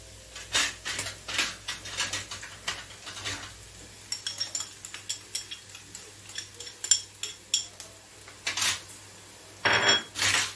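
Chopped onion in a few spoonfuls of oil in a pan for a meat cannelloni filling, heard as repeated clinks and scrapes of a utensil against the pan over a faint sizzle.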